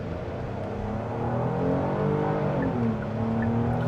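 A 2026 Hyundai Palisade Calligraphy SUV pulls away hard from a stop, its engine note climbing steadily and loudly through a sustained, rising acceleration with no talking over it.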